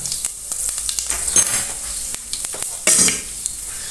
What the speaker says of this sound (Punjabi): ਮੇਥੇ ਨੂੰ ਬਰਾਊਨ ਕਰਾਂਗੇ